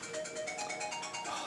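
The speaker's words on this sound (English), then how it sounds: "Oh, that's my phone." A phone rings with a faint, repeating electronic ringtone that pulses steadily in the background.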